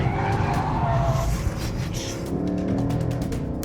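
A 2021 Lexus RC F Track Edition slides sideways around a track corner, its engine roaring loud and steady while the tires skid and squeal continuously underneath.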